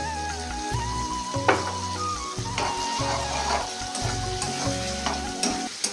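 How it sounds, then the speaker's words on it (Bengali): Potato curry cooking in a pan, a steady close sizzle of frying with stirring scrapes, under a continuous low hum and some clinks. "এদিকে সাদা সাদা আলু তরকারিটা চাপ দিচ্ছি"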